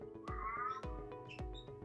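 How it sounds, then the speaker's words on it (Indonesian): A pet cat meows indoors, a short series of rising, nasal cries, fairly close, with sharp taps or knocks between them. "Maaf ya kalau ada suara kucing."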